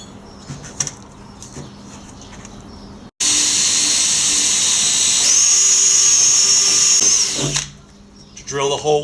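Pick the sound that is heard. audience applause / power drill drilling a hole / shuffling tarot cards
power drill drilling a hole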